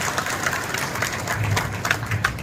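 At a housing grant distribution event in Choutuppal, a crowd claps loudly and continuously, dense overlapping applause filling the hall.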